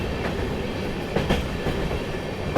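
The 13698 Amrit Bharat Express from Delhi to Gaya rolls toward the Son river bridge, with a steady close rumble of railcars and a few sharper wheel clicks rising out of the drone.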